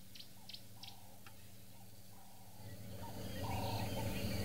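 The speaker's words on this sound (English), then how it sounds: "And the birds are awake. Let's listen." Wild birds calling at dawn at an African safari site, with a few faint, sharp chirps early on that give way to a rising wash of distant birdsong and insect buzz, and no voices.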